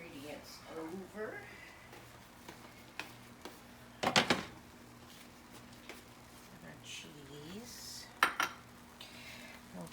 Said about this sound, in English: we just want to give that a shake, make sure the whole bottom is covered